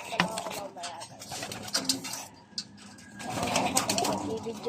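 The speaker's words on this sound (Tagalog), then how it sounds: "Ito lang kalapati ko." Pigeons coo softly nearby while a person talks over them, with the cooing rising and falling in short phrases.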